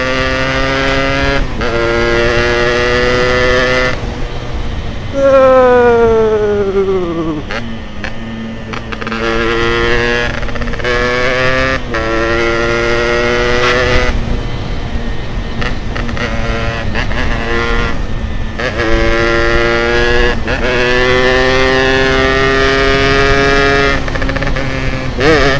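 Yamaha RX King two-stroke motorcycle, built in Bandung style, loud and close throughout, with engine pitch rising and falling through repeated revs and gear changes as it is ridden.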